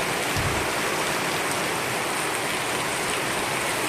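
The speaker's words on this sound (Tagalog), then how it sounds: "Ang lakas ng ulan guys." Heavy rain during a storm falls as a constant, dense hiss of water, a loud, unbroken wash that stays even throughout with no voices.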